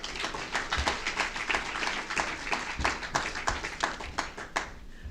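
Conference audience applauding in a hall, a crowd of scattered hand claps with sharp individual smacks standing out, steady and moderately loud before tapering slightly at the end.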